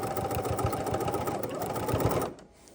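A model 880 sewing machine runs fast stitching quilt patches together, a steady rapid mechanical whir with a pulsing needle rhythm heard close, then stopping abruptly near the end.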